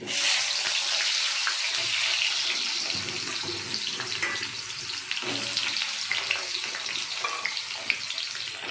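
Cut vegetables fry in hot oil tempered with radhuni and bay leaf, a continuous close sizzle with scattered stirring clatter throughout, no talk.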